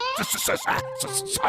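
A cartoon voice imitates a dog over the phone in a Bengali cartoon, with a run of yipping, whimpering barks that sound close and fill the short moment.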